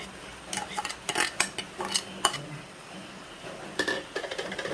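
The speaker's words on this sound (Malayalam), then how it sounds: "ഇതെല്ലാം കൂടിയിട്ട് നന്നായിട്ട് മിക്സ് ചെയ്ത് കൊടുക്കാം" Ground coconut paste being stirred into a vegetable curry with chickpeas, a spoon scraping and knocking against the pot in irregular bursts separated by brief pauses, close but fairly soft, with no speech.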